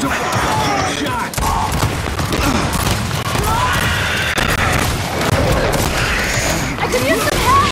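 Dense gunfire from a Gears 5 multiplayer match, bursts and booms piling on one another almost nonstop, loud and close, with a player's voice talking over the shooting.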